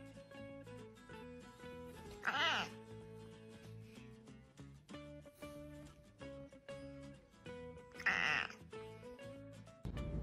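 A pet cat meows twice, loud and close, with a long wavering cry near the start and a second one later, over a busy backdrop of music and household noise.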